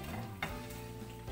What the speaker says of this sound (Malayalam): ചെമ്മീനെ വറുക്കുമ്പോൾ ഒരു മൂത്ത സ്മെല്ല് വരും.